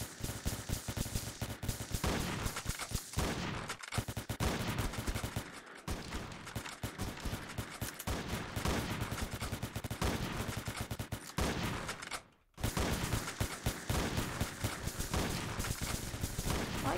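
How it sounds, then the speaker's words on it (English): Rapid gunfire from a robot shooting video game rattles almost continuously at close range, dense bursts with only a few brief gaps. "No, I'm getting shot at."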